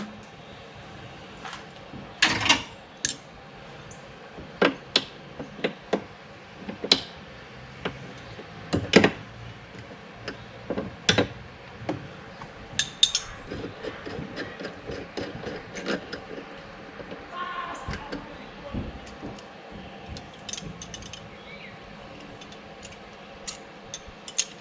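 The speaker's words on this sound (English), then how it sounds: "we're going to go ahead and remove our intake hose" An intake hose coming off a 1998 Honda Civic hatchback, heard as scattered sharp clicks, ticks and small ratcheting snaps from clamps and plastic fittings, close up in a quiet setting with irregular pauses between them.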